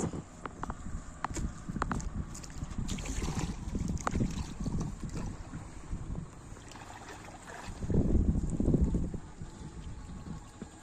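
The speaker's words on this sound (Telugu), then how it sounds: "మెల్ల మన బోట్ అయితే వెళ్తుంది" A boat moves slowly across water, with uneven knocking, sloshing and rumbling that rises and falls in clusters, close by and moderately loud.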